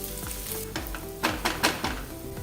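Roughly mashed potato stuffing for stuffed capsicum being stirred in a pan, a soft sizzle running underneath with a few scraping strokes of the spoon.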